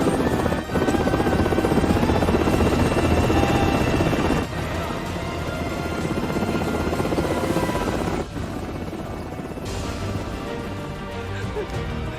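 A military helicopter flies in a film scene from Tears of the Sun, its rotor and turbine roaring loudly and continuously throughout, with a slight drop in level partway through.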